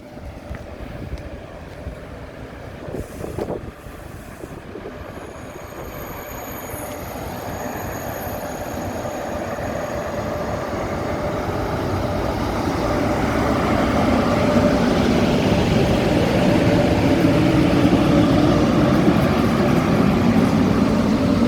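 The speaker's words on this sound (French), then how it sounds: "vrombir le moteur du TGV." TGV inOui high-speed train at Dax station, a steady low roar building gradually louder over twenty seconds with rumbling wheels and a faint high squeal, no talking.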